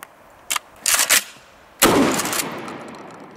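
Kel-Tec KSG 12 gauge shotgun firing outdoors, a few sharp blasts in quick succession followed by a louder boom that trails off into echo.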